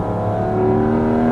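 Porsche 718 Cayman GT4 RS flat-six engine pulls hard on a wet road, a loud, close, rising drone with rich harmonics climbing steadily in pitch.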